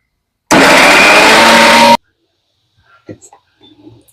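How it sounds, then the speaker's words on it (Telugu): A kitchen mixer grinder whirs loudly for about a second and a half while grinding a smooth paste for egg curry, then stops abruptly, leaving soft handling clicks and faint movement. "ఇది మిక్సీ పట్టేద్దామండి"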